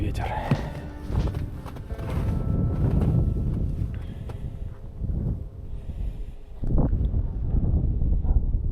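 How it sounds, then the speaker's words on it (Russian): Wind gusting across a frozen winter fishing spot, a steady low roar and buffeting against the microphone throughout, with some faint handling knocks. "Еще и ветер."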